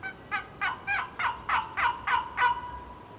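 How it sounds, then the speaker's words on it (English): Wooden turkey box call worked by a hunter, giving seven evenly spaced raspy yelps in a steady rhythm, fairly close and clear against a quiet outdoor background. "there's the box call"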